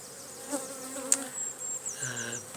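Honey bees buzz at a colony hive in spring, a soft steady hum with a few louder passes of single bees near the microphone over a low, continuous drone.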